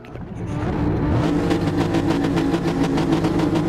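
Race car engines revving loudly and steadily on the starting grid at Monza, a dense sustained roar that swells in the first second and then holds high as the cars wait for the start.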